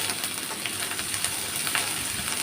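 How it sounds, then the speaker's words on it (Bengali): Mustard paste, two tablespoons, hits a hot pan with onions and fries with a dense, constant sizzle, close and loud throughout, with no talking. "দিয়ে দিচ্ছি সরিষা বাটা 2 টেবিল চামচ।"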